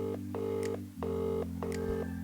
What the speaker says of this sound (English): I'm going to make a quick phone call